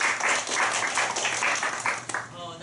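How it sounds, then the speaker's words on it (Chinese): Audience applause at a two-minute self-introduction meetup, a dense, steady patter of many hands clapping throughout, with a brief sharp accent near the end. "陈君，掌声欢迎。"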